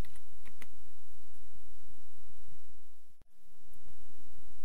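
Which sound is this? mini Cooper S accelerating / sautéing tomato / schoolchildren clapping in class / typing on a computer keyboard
typing on a computer keyboard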